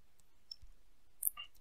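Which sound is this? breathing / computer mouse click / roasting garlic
computer mouse click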